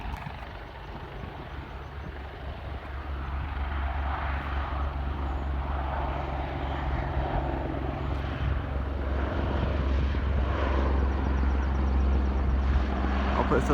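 An aircraft engine drones loudly at Aberdeen airport, where planes and helicopters operate, building from a moderate roar into a sustained heavy rumble as it draws nearer.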